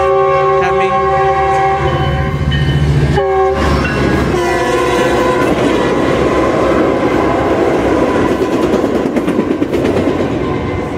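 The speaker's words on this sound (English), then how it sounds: "That's a BNSF coming." A BNSF freight train passes close by at a rail crossing, its horn sounding loud and sustained with harmonic blasts over a steady rumble and clatter of wagons that builds toward the end.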